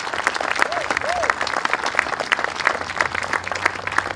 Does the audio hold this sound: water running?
no